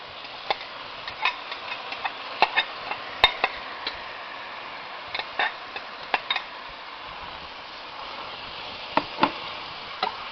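Corn sautéing in melted butter and bacon in a pan, a soft steady sizzle with scattered light clicks and taps of a utensil against the pan, close and quiet.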